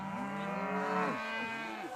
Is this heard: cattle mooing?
yes